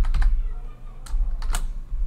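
Typing on a computer keyboard: a few quick clustered keystrokes, a pause, then more taps, close and clear with no talking.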